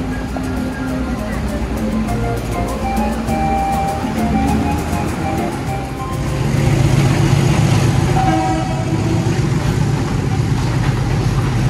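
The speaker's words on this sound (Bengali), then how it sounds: "এটি হচ্ছে পেরু রেল। এই মাচু পিচু শহর থেকে চলে যাচ্ছে পেরুর ইনকা সভ্যতার কেন্দ্রস্থল কুস্কো শহরের দিকে।" A PeruRail train pulls out of Machu Picchu town, a low continuous rumble that swells midway, with faint horn-like tones and a busy outdoor background.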